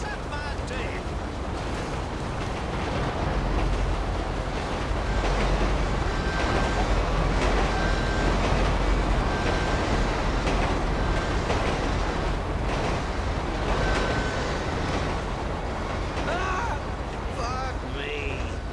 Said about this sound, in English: Oh lord, here comes the train.